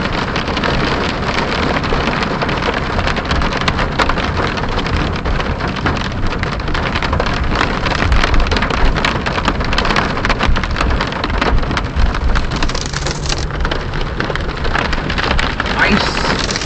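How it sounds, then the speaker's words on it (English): Hail pelting down on a road in California during a storm, a dense, steady hiss of countless impacts that stays loud and continuous throughout, with a faint rumble underneath. "There's ice falling from the sky, man."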